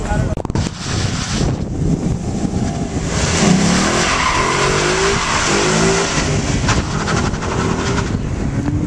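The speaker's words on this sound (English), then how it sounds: "A lot of tire spin." Car tires spin and skid with loud squealing and rising engine revs, buffeted by wind noise on the microphone, sustained for several seconds at close range; a Ford is involved.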